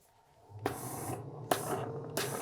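An iron presses down on a garment's side and underarm seam while sewing knit fabric, giving short bursts of steam hiss separated by quieter stretches and soft fabric handling.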